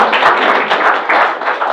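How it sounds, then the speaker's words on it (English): Audience applause at a business breakfast meeting, a dense steady round of clapping from a room full of people, loud and close throughout without any voices over it. "So give yourselves a round of applause"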